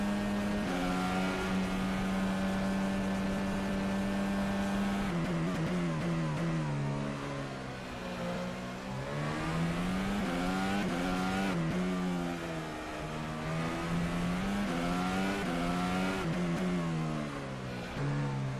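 F1 race cars in a racing video game at the Eifel Grand Prix, engines whining loud and continuous with rising and falling pitch as they rev, shift and corner through the final laps.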